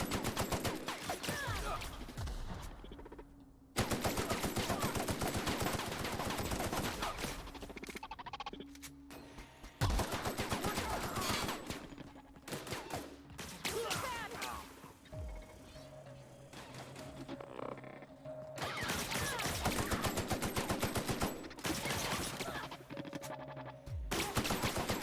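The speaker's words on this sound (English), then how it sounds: "Why are you shooting me?" Bursts of rapid gunfire from The Outer Worlds video game, loud and sustained across the scene with brief lulls between volleys.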